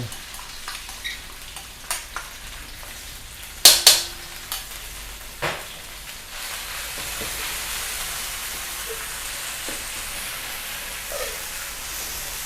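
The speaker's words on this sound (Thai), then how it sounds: "น้ำมันสำหรับผัดครับ พริกกระเทียมที่ตำไว้" Pounded chili and garlic paste hits hot oil for a scallop stir-fry and gives a steady sizzle. A few sharp clinks and scrapes of a utensil come early, then the frying hiss settles in and grows a little fuller.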